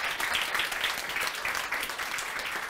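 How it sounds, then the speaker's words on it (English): An audience claps for a speaker after a talk at an event, a dense, even burst of applause sustained across the whole moment without any voices. "Applause for the first to Chris."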